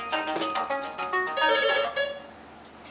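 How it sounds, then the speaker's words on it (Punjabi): A mobile phone ringtone playing a bright, repeating melodic tune for several seconds, fairly close and clear, with no one speaking over it. "ਫੋਨ ਵੱਜ ਰਿਹਾ ਹਾਂ ਫੋਨ ਚੱਕੋ ਫੋਨ ਵੱਜ ਰਿਹਾ"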